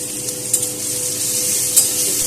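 Garlic and green chillies fry with black mustard seeds and dried red chillies in mustard oil, a steady soft sizzle with faint occasional stirring clinks.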